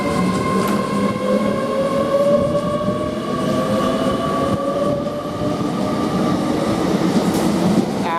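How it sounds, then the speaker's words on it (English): An Avanti West Coast passenger train pulls away from Coventry railway station, a loud, close, steady rumble with rising whining electric motor tones and faint rail clatter throughout. "Now we've got this Avanti West Coast, the late running now, which is the 12:45 from Birmingham New Street to London Euston, now departing at 12:50."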